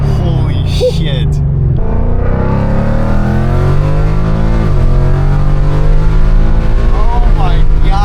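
A loud Ford Mustang engine roars and revs up close, its deep note rising and swelling steadily under excited talk inside the car.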